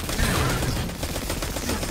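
Rapid weapon fire from the video game Destiny 2 crackles in a dense, continuous burst of shots, loud and close, with a faint voice underneath.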